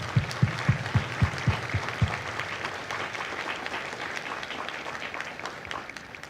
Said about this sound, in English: So if you would all please join me in a round of applause for the families of Mike Company.